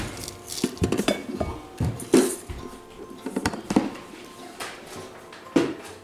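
Plastic measuring cups and a half-cup scoop clink and knock together while oats are scooped and measured in a farmhouse kitchen, a series of irregular close taps and light rattles.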